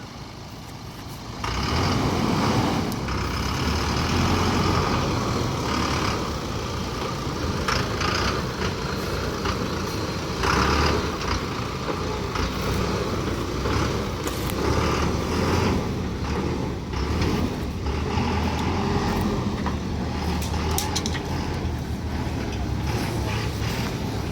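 Heavy trucks rumble past one after another, a loud continuous roar of engines close by with occasional hissing brakes.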